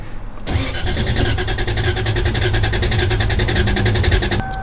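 A Toyota 2JZ engine with one cylinder lacking compression cranks on the starter in a steady, uneven chugging rhythm for about four seconds, loud and close, then cuts off abruptly.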